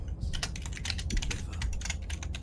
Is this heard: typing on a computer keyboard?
yes